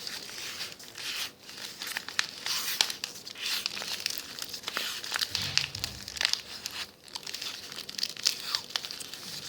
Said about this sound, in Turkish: şu şekilde bantlıyoruz